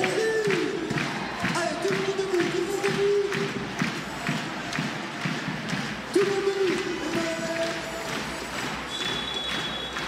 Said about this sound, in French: Quelques coups de tambour, quelques applaudissements pour lancer une rencontre de la plus belle des manières.